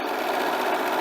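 A sewing machine stitching two fabric pieces placed right sides together under the presser foot, a steady, fast, even mechanical whir running close and unbroken for about a second.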